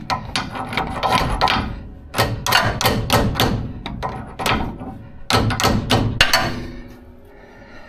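Rapid, repeated hammer blows ring out close by in three quick bursts separated by short pauses, while working on the front suspension of a 1987 Chevrolet R20 pickup.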